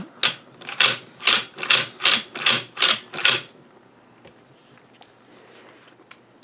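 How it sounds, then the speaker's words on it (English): The lever action of a Winchester 1873 short rifle in .357 Magnum is cycled about eight times in a quick, even rhythm of sharp, close metallic clacks, then falls quiet apart from a couple of faint ticks. "This is the smoothest lever action gun I've ever seen."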